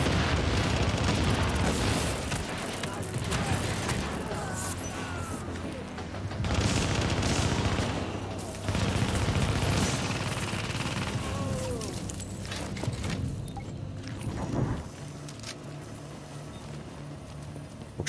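Gunfire in the video game The Division, in a tunnel setting, comes as repeated bursts and scattered shots over a steady game backdrop, with someone speaking quietly at times.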